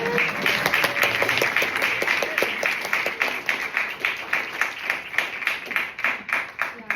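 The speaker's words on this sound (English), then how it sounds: "another round of applause for Ryan." An audience gives a round of applause for Ryan at a climate conference presentation, a dense, steady burst of many hands clapping that stays loud throughout and thins slightly toward the end.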